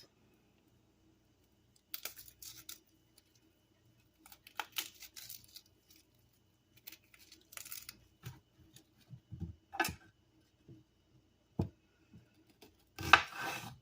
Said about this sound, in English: In half. We're not dicing it, we're just slicing.